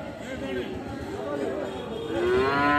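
A young bull calf moos at a busy cattle market, its drawn-out calls rising over a steady crowd murmur while someone talks nearby.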